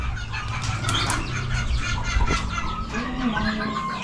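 Serama chicken chicks peep and cheep in a busy, overlapping chorus close by, with a soft flutter of small wings underneath and no voices.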